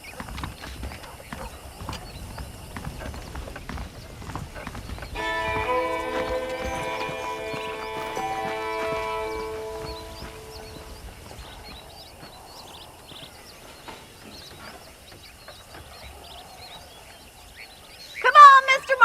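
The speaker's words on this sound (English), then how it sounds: "The horses are saddled up over here." Horse hooves clip-clop in a steady trotting rhythm in Red Dead Redemption, with saddled horses close by, a brief whinny-like burst near the end, and music and ambient game sound underneath.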